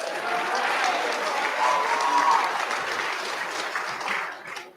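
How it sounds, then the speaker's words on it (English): A dense, steady wash of applause from a sports awards audience fills the room for several seconds and then trails off quickly. "Round of applause for Austin Watts."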